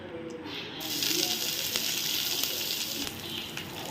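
Mustard seeds, curry leaves and chopped onion sizzle and spit loudly in hot oil in a pan. A sharp, steady frying hiss starts suddenly and keeps going at close range.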